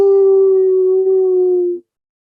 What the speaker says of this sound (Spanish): y si te recordás, Xiomara, oímos un aullido.